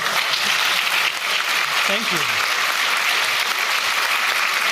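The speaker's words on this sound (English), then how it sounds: "Can we clap first?" Steady applause from an audience at a technical conference talk, filling the whole stretch at a constant level, with a brief spoken thanks heard over it.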